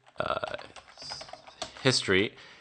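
Keys clatter on a computer keyboard as a command is typed into a terminal, light tapping mixed under a person talking.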